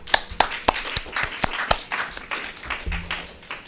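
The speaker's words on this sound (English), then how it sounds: "Let us give them another round of applause," A symposium audience gives sparse applause for the speakers: a handful of distinct, separate claps in an uneven rhythm, then softer, scattered clapping trailing off.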